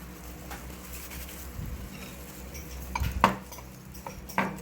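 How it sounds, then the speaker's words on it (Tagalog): Utensil scraping and clinking in a bowl while lemon zest is mixed into a sorbitol-sweetened mixture in a ship's galley, soft stirring with a few sharp clinks against the dish. "We're gonna mix the lemon zest."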